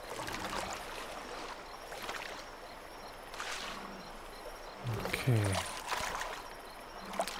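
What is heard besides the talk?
flowing water of a stream in the video game The Isle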